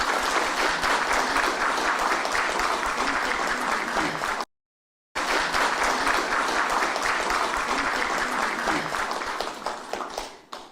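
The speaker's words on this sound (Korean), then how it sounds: "다시 한번 뜨거운 박수 부탁드립니다." A crowd at a political campaign committee meeting in Gwangju claps in sustained, dense applause, briefly cut off midway, then continuing before tapering off at the end.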